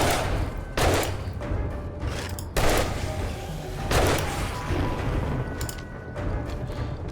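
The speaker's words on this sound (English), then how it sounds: "Let's try our new gun." Several heavy gunshots from a newly acquired gun in 7 Days to Die, sharp booming blasts at irregular intervals with mechanical clatter and a lingering rumble between them.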